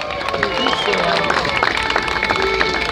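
A crowd claps and cheers continuously for a rally crew, a Škoda Fabia R5 pairing, taking the stage, dense and loud throughout with voices mixed into the applause.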